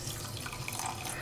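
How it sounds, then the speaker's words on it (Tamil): Water pours steadily into a pan for sugar syrup while making badusha in a home kitchen, a close, continuous splashing rush with no break over the short moment. "தண்ணியை கொஞ்சம் ஊற்றிக்கிறேன்."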